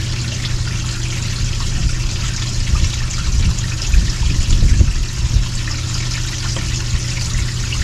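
Gray water from an RV holding tank drains through the dump pipe, a continuous rushing, trickling flow that swells briefly midway before settling back to a steady stream.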